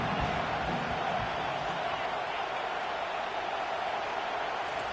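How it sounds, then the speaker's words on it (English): Stadium crowd in a football video game roaring on 3rd down, a steady, dense wash of cheering noise that holds at a constant loud level throughout. "Decibels rising as the crowd gets behind this defense on 3rd down."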